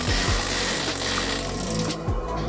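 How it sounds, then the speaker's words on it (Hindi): A power drill buzzes and whirs continuously while screws are driven to fit a removable mosquito net onto an old window frame, loud and close with a few harder clicks and thumps of the tool. "ये देखिए पूरा ड्रिलिंग करके स्क्रू से फिटिंग कर रहे हैं।"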